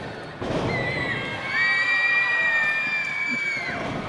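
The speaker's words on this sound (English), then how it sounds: "Crowd going nuts behind us" A wrestling crowd at a live PPW High Voltage show cheers and shouts loudly and continuously, with a sustained high voice rising above the roar through most of the stretch.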